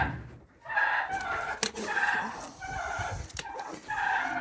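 Turkeys on a ranch clucking and calling around a food dish at feeding time, a busy cluster of close, overlapping bird calls with brief gaps.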